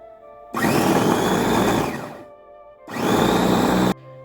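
Kitchen blender grinding three slices of bread into crumbs, running in two loud whirring bursts of about one and a half and one second, separated by a short pause.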